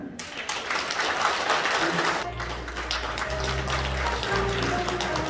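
Applause from the audience at the inauguration ceremony of Kim Ho-il as the 18th president of the Korea Senior Citizens Association, a dense clapping wash that gives way partway through to a low steady hum.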